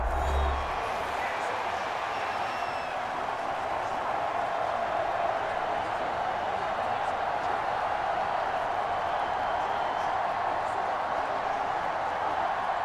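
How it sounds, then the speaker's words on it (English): A stadium crowd roars steadily and loudly for the whole stretch, a dense, unbroken wash of cheering at third down in a Madden NFL game between the Kansas City Chiefs and New York Jets. "This crowd turning up the decibel level."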